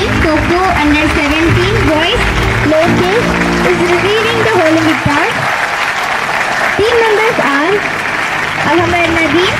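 An audience at a school Olympic torch event claps steadily, a dense, loud, continuous wash of applause while an announcer speaks over it through a PA.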